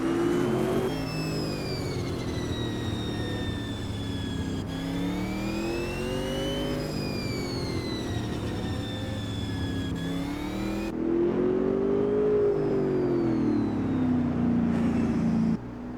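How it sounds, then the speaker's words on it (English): A GT touring race car in the Automobilista 2 sim on the Adelaide street circuit drones with a loud, steady exhaust note, rising and falling through gear changes and revs with no talk over it. "I can't listen to that glitchy exhaust music."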